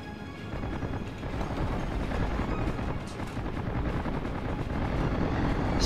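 Steady loud propeller drone of a four-engine aircraft flying in World of Warships, a continuous rumbling roar sustained throughout with slight swells, no talk.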